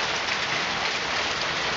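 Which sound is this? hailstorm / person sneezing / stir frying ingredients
hailstorm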